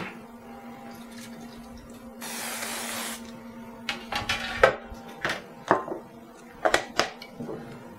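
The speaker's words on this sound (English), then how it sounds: "I'm going to take a cookie sheet and grease it" Cooking spray hisses onto a regular cookie sheet in one short burst, followed by a series of light clanks and taps of a metal pan being handled in a quiet kitchen.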